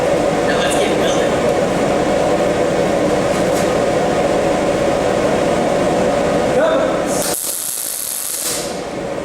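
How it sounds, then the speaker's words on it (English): Welding a metal heart project in a high school shop, a steady loud crackling hiss that runs continuously and then stops near the end, when a brief high whine follows. "Now let's get welding."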